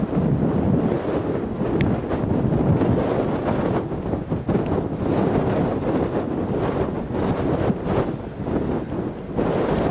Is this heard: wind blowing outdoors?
yes